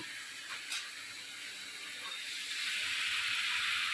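Pumpkin greens going into a hot pan, giving a soft steady hiss that grows louder and brighter toward the end, with no talking.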